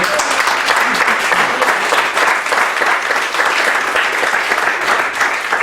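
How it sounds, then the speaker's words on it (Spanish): A church congregation applauds, a dense sustained wash of many hands clapping together, loud and even throughout with no pause. "Denle un aplauso al Señor."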